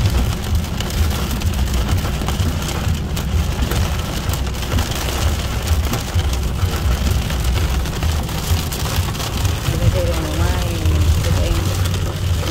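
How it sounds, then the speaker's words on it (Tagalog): Heavy rain pours down in Florida, a loud, dense, continuous hiss of drops drumming on surfaces, with a low rumble beneath and a voice briefly audible under the downpour. "Ulan."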